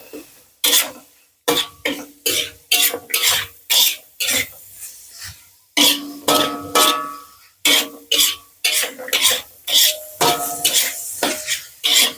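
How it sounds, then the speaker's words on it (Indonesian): Leaves, shallots and chilies being stir-fried in a pan, with repeated rhythmic scraping and clanking of a spatula against the metal over a soft sizzle, loud and close. "sambil tak masukin ini bawang merah sama cabenya biar matang gitu"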